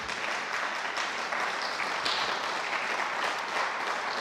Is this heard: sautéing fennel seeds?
no